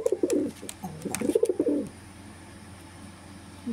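An agitated domestic pigeon coos close by in a few rolling, throaty phrases packed into the first two seconds, then falls silent over faint background hiss.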